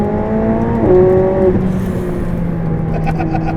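A 2016 McLaren 675LT sports car accelerates hard, its engine loud and close, with rising tones that jump at a gear change and keep climbing for a few seconds.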